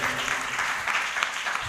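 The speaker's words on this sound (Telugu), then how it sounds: "ఇటువంటి దేవుడికి 4 సెకండ్లు మనం అందరం కూడా చప్పట్లు కొట్టి వందనాలు తెలియజేయాలి" A church congregation claps together during a sermon, a dense, steady wash of many hands lasting a couple of seconds at moderate distance, with no voices standing out.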